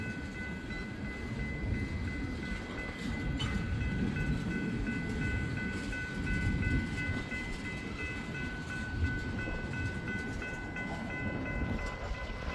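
A long Norfolk Southern freight train rolls past at Bellevue with a steady heavy rumble and rattling cars, plus faint high tones riding over the top, sustained and fairly close, with no talk.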